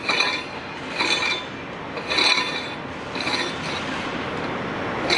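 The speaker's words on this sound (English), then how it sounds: "You take your T-handle wrench and you'll take the wrench side here." A T-handle wrench working loose a traveling stop nut while replacing a Series 27 main valve, heard as repeated rasping metallic scrapes in short bursts, fairly close and without speech.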